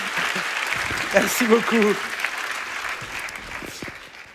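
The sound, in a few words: church congregation applauding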